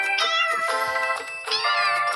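A few drawn-out, high, tonal cat meows from the video game Cat Condo 2 in quick succession, clear and close, with a bright synthetic quality and no talking.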